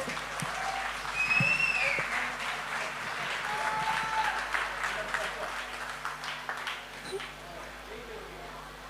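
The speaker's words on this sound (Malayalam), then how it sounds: "നമ്മുടെ പിള്ളേർക്ക് വേണ്ടിയിട്ട് നല്ലൊരു കൈയടി കൊടുത്ത്" Audience at a Malayalam class Onam programme clapping for the children, a lively burst of applause that peaks and then tapers, with a voice talking over it and a faint whistle.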